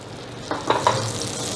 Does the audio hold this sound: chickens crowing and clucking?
no